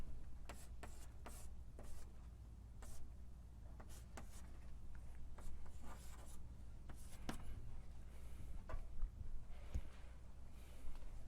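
Writing on a board during a lecture: faint, irregular taps and scratchy strokes scattered throughout over a low room hum, quiet and slightly distant, with no talking.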